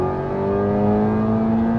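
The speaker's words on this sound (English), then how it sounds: "it's quite licky to hit the rev limiter in this car" A 300 kW front-wheel-drive Type R on a Cape Town road holds a high, steady engine note close up, straining near the rev limiter with a strong tonal whine and no voices.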